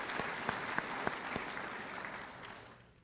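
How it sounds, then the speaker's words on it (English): Audience applause at a military change of command ceremony for the 16th Air Force, a soft, steady wash of many hands clapping in a large room with a few sharper claps standing out, heard at a distance and tapering off. "I think we probably owe a few people a round of applause"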